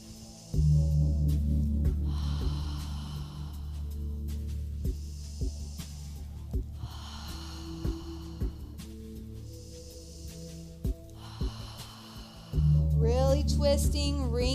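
Slow, breathy exhalations during a yoga twist recur at intervals as soft rushing breaths, close and fairly quiet, over a low background hum with no talking.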